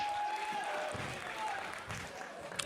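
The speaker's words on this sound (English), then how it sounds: "Oh, that is an excited crowd for sure." A lively crowd at an indie wrestling show claps and cheers in a steady wash of applause, with a voice talking over it.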